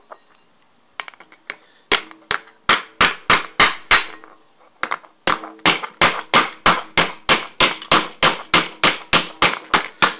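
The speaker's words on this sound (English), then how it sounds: "use the backside of the ball peen to take out these dents" The back of a ball peen hammer taps dents out of an epee blade in sharp, ringing metallic strikes, a few light taps followed by two brisk, evenly paced runs of loud close blows, with no talk.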